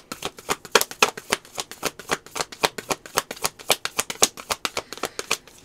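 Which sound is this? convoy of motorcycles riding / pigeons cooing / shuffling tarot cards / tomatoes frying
shuffling tarot cards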